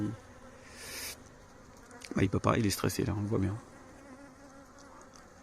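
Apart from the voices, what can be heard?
flying insect buzzing in trap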